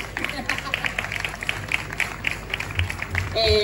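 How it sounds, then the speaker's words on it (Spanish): A small audience claps at a Dragon Ball Z Kai voice actors' interview event, a light, rhythmic patter of a few hands clapping steadily for several seconds, with faint voices underneath. "¡Aplauso! En guión dice que aplaudir aquí."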